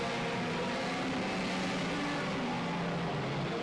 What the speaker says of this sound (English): That car sounds different.